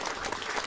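Applause at a city council regular meeting for an award winner. Steady, even clapping from a roomful of people, moderately loud, in a very short burst with no talk over it.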